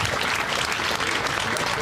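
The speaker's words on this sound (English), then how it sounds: "Give that a round of applause." Crowd at a blues community gathering breaks into loud, continuous applause, dense and close, sustained throughout with some voices mixed in.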